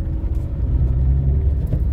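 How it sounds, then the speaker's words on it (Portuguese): A truck drives slowly along a road in a vast flood-hit area north of Porto Alegre, with a steady low engine rumble heard close up throughout and no talking. "o caminhão vai entrar aqui à esquerda"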